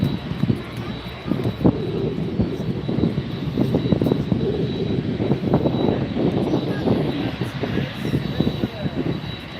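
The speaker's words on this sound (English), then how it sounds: "We can get so much closer to this jets here in Miami than we could at LAX" A heavy jet cargo aircraft at Miami airport produces a loud, sustained engine roar with rumbling surges throughout, while a person talks at intervals over the noise.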